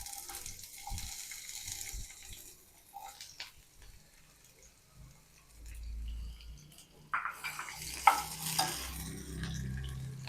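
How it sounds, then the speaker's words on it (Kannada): Capsicum frying in oil in a pan at home, being stirred with a spoon: soft scraping stirs and light sizzle, quiet at first and growing louder and denser toward the end, close by with no voices. "ಈ ಕ್ಯಾಪ್ಸಿಕಮ್ ಫ್ರೈ ಮಾಡ್ಕೊಳ್ಳೋಣ."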